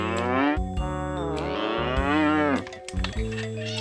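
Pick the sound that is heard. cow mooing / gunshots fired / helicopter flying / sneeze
cow mooing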